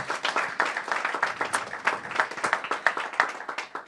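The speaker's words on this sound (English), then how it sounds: "Give Jocelyn a big round of applause" An audience at a mayor's announcement of a new job-training academy gives a short round of applause, distinct individual claps close and crisp, fairly light and even throughout.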